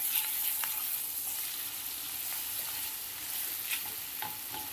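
Ginger-garlic paste, red chili powder and turmeric being stirred in a hot pan for a Marathi zinge chutney, a steady soft sizzle with faint scraping strokes of a spoon, close and alone.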